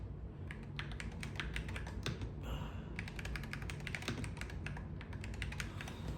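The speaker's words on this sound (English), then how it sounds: "I'm typing really slow." Slow, uneven clicking of keys on a computer keyboard, close and fairly quiet, running steadily with a brief pause partway through.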